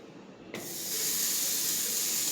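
A cube of homemade butter drops into a hot pan and sizzles at once, a sudden onset settling into a steady, close, bright hiss that holds without any talk.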